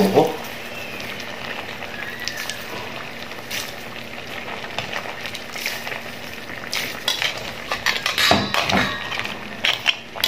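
Crab simmering in coconut milk with banana blossom, a busy low bubbling and occasional utensil clinks and scraping under steady kitchen noise, with speech-like murmurs and brief louder clatters near the end.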